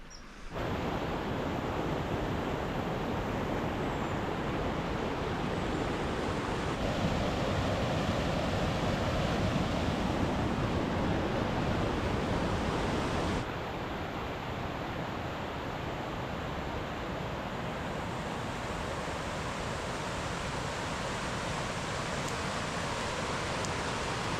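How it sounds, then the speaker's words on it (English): Rushing water roars continuously, a dense broad whoosh from a waterfall cataract at a lake outlet in Glacier National Park, loud and unchanging with a slight drop in level partway through. "there's a beautiful cataract at the outlet of the lake"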